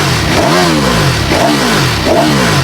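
High-revving Ducati Panigale V4R engine, rev limit 15,000 RPM, revved in neutral: three quick rising-and-falling throttle blips, loud and near, with no voices.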